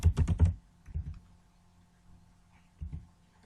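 Keys clatter on a computer keyboard in a quick burst of typing, with a firmer press of the enter key, close and fairly quiet, followed by a few isolated key taps in a quiet room.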